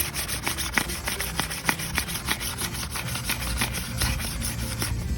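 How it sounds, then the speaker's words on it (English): Wet sanding a wheel lip by hand with 2000 grit sandpaper: steady back-and-forth rubbing strokes in a regular quick rhythm, close and moderately loud, with no talking. "Just giving this lip a good wet sand with a bit of 2000 grit."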